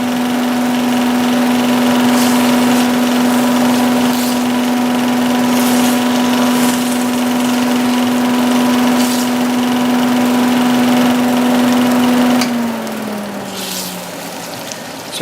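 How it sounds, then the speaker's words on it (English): A loud kitchen exhaust fan drones steadily and close, a constant whirring hum with a fixed tone that winds down near the end, running alone without talk during braising of pork chops. "A very loud exhaust fan."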